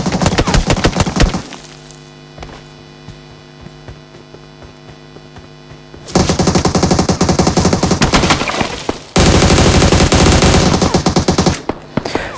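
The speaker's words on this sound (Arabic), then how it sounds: "لا ضيع عليه طلقات كتير ده" Loud automatic gunfire from a PUBG Mobile match, with rapid bursts of shots at the start, a quieter stretch with a steady electronic hum, then long sustained volleys that cut out briefly and resume.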